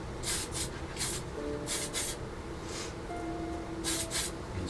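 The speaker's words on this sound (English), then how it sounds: "I'm going to use Tamiya's TS6 matte black. Just quickly spray that" Short bursts of aerosol spray from a can of Tamiya TS6 matte black lacquer coating a propeller for a 1/32 scale P-40E Warhawk model, several quick close hisses with pauses between them.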